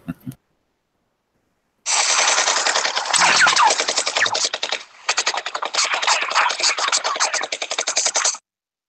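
Rapid mechanical bursts from a dropped gun firing as it falls off a counter, a long rattling run of sharp shots about six seconds long, loud and close, broken by a brief gap midway.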